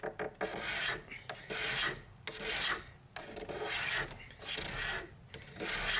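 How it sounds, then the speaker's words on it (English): A card scraper made from an old Sawzall blade is pushed across wood in repeated strokes, each a close, raspy shaving scrape lasting about a second, separated by brief pauses. "push the blade across our wood, and that creates a shaving. It scrapes off just a little bit of wood"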